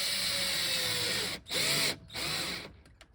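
A power drill drives mounting screws into a fitting inside a full-time home-on-wheels van, with two sustained whirring bursts split by brief pauses, then a short tail of rattling.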